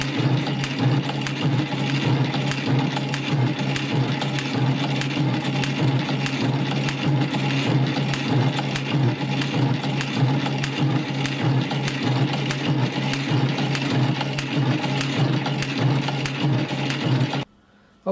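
Adept No.2 shaping machine cutting steel, a steady loud mechanical drone with rapid regular clicking from the ram strokes and feed ratchet, running continuously until it stops abruptly near the end.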